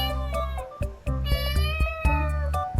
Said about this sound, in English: Next is cat.